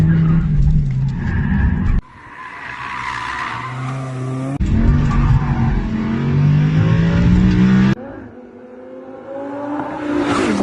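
A Lamborghini Huracan and a Toyota Yaris GRMN on a race track, loud engines revving and shifting through gears close by, with sustained tire squeal through corners across several abrupt cuts between cars.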